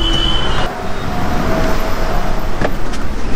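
A small car driving through city traffic in Vashi, a loud continuous road rumble of engine and tires with surrounding vehicles and a few brief higher squeaks.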